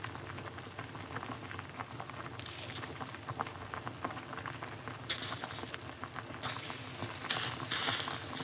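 Water for a herbal cold-and-flu tea boils on a cooker, a dense bubbling patter that rises in intensity in surges, close and continuous with no talk.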